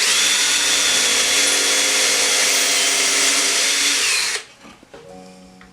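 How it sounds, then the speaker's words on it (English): An electric drill bores a small pilot hole into wood, a loud steady whine that runs for about four seconds before cutting off abruptly, followed by faint handling clatter. "I just want to get a little pilot hole in there now that I've got it started with the awl to locate it"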